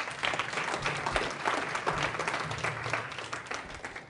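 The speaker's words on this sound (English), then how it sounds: "There is a round of applause." Round of applause from an audience at a business networking talk, a steady, moderately quiet patter of many hands clapping for about four seconds.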